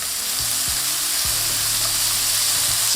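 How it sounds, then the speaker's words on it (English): Onions hit a hot pan alongside seared beef and fry with a loud, continuous sizzle, broken by a few brief scraping and stirring noises. "I'm gonna throw in our onions"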